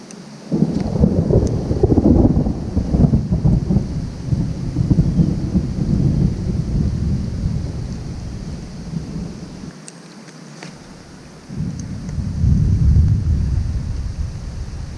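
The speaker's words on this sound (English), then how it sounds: "It's starting to rain a little, I think." Steady rain patters through tree cover along a creek during a storm on a wading fishing trip, with low thunder rumbling and swelling in the first half and again near the end, and no one speaking.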